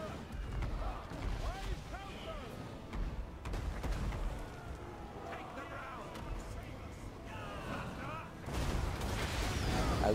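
Artillery fire in the battle game Total War: Warhammer, with repeated booming blasts and rumbling impacts throughout a busy battle mix under continuous talking.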